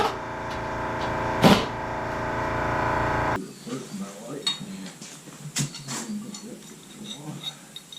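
Metal clanks and knocks on the oil pan of a Mopar 360 V8 with a roller cam during a teardown, with a sharp strike early on and scattered close taps after, and people talking around it.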